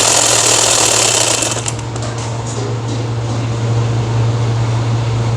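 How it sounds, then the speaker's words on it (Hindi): An electric sewing machine runs steadily in a home setting, a continuous mechanical hum with a fast rapid stitching rattle, loud and close throughout, with no talking. "तो वो अभी सोई है तो सिलाई मशीन लेकर बैठा है।"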